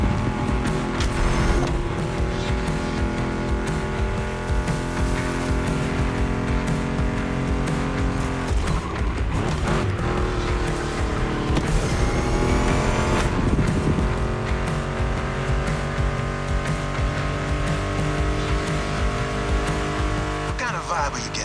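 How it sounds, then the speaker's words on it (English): A Mustang GT muscle car engine in the video game The Crew Motorfest roars and revs continuously with a steady loud drone, gear shifts rising and falling, mixed with music throughout. "Meshes well with the sound of the engines"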